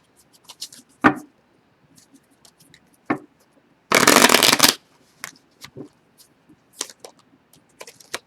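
Tarot cards shuffled by hand, a single loud riffle lasting under a second among sparse soft taps and card flicks, close and clear with no talking.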